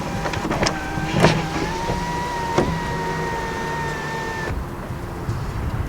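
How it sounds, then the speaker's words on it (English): Panoramic moonroof front panel on a 2019 Lexus LS 500 F-Sport sliding open: a steady electric motor whine with a few clicks, running for about four and a half seconds before stopping, close and moderately loud. "the front panel does open up like a traditional moonroof"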